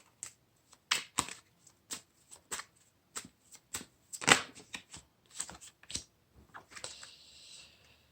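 Tarot cards shuffled in a series of separate crisp snaps and riffles, about a dozen distinct bursts at an uneven pace, close and clear, ending in a softer brushing slide, with no talk.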